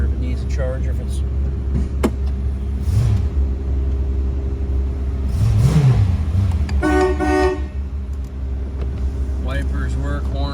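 A 1990 Cadillac Sedan Deville V8 sounds its horn in one short, loud blast over the steady low rumble of the idling engine, with a faint electric whir just before.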